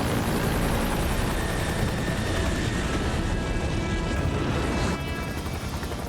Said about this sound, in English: I'm in a civilian helicopter.